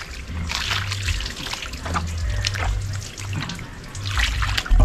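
Small cuttlefish are rinsed under running water, a continuous close trickle and splash of water with irregular spattering bursts, over a low steady hum.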